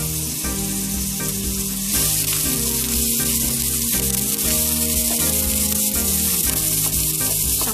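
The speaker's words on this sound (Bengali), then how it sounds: "এখন আমি আদা কুচি এবং রসুন কুচি দিচ্ছি।" Chopped ginger and garlic sizzle in a little oil for mixed Chinese noodles, a loud steady hiss that jumps up partway through and then holds, over a constant tonal hum.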